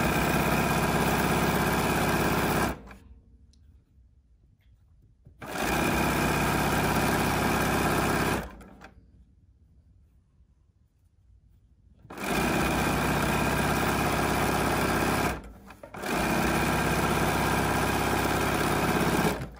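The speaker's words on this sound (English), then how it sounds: "steering the material through the machine" A sewing machine stitches quilt-block fabric pieces in a steady, close mechanical whir, running in four long bursts separated by short pauses.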